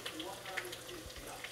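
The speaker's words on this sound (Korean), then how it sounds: "이렇게 하고 한 6-7분 튀기면 돼요" Vegetables and squid fry in oil with a soft, crackling sizzle of scattered small pops, faint and continuous, heard under a background of low talk.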